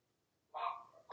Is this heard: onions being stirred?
no